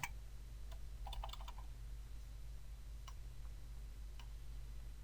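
A computer keyboard gets a few quick keystrokes, a short burst of clicks followed by two isolated taps, faint and close over a steady low hum.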